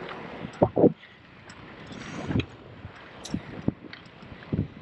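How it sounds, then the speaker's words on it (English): Light breeze gusting against the microphone on a trike ride through Colombia between Sincelejo and Tolú, a steady soft rush broken by a few short, louder buffets, with no talking. "I've got a little bit of a breeze"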